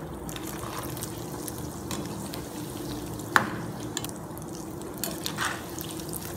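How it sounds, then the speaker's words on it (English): Cashew nuts frying in oil for a spicy South Indian mixture snack, a soft steady bubbling hiss with faint stirring clinks and a single sharp tap partway through. "Now here I have got some cashew nuts. I'm going to fry this as well."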